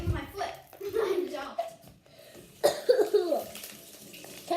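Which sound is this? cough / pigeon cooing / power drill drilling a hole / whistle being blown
cough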